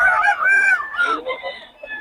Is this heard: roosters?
yes